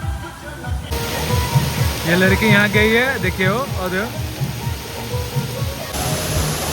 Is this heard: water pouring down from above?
yes